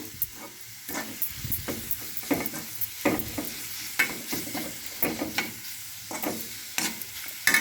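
Laddu mixture with a little powdered jaggery stirred and frying in ghee in a pan, a steady soft sizzle broken by repeated scraping strokes of the spoon at a close, moderate level.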